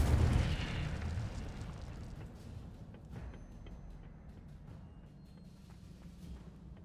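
An Incendio fire spell in Hogwarts Legacy bursts with a loud whooshing blast at the start, then fades into a low, lingering rumble of flames, with no talking over it.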